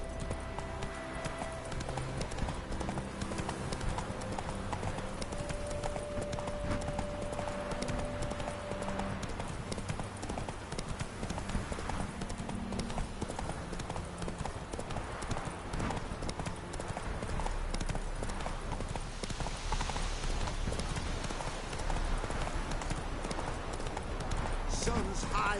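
Horse Roach's hooves clip-clopping steadily in The Witcher III: Hearts of Stone, a continuous rhythmic gait heard close under game ambience and music, with a voice talking partway through.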